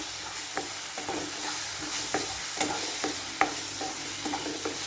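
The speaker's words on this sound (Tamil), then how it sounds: "மிளகாய்த்தூள், மல்லித்தூள் ஆட் பண்ணிக்கிறேன். நல்லா வதக்கி விட்டுக்குவோம்." Chili powder and coriander powder masala sautéing in a pan for brinjal biryani gravy: a steady sizzle broken by repeated close spatula scrapes and taps at an irregular rhythm, with no talking.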